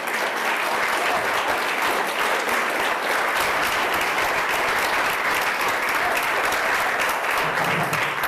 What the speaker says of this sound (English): Thank you for holding your applause till the end